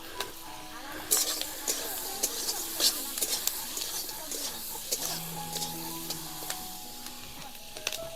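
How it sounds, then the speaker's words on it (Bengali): Chopped onion and capsicum fry in butter in a hot kadai outdoors in a village kitchen, a steady sizzle broken by scraping, stirring clicks and occasional metallic taps of a spatula, with faint background sounds. "এবার কেটে রাখা পেঁয়াজ ক্যাপসিকাম দিয়ে ভেজে নেব"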